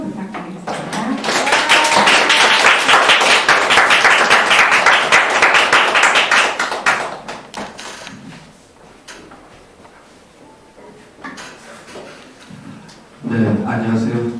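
An audience at a climate-crisis lecture gives warm applause to welcome the speaker, loud dense clapping for about seven seconds before it thins to scattered claps and quiet, followed by a voice speaking at the end.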